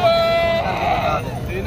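Goats bleat at a busy livestock market, with a sustained, wavering bleat up close and crowd chatter and people talking around it.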